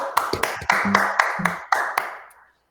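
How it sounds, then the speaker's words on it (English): Sparse hand claps from a few people at a livestreamed school assembly, irregular and close, fading out after a couple of seconds. "Give those guys a big clap."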